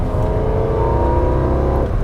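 A high-mileage BMW E46 M3 engine revs hard and steadily with a dense, rising harmonic howl, loud and close from the cabin with no voices.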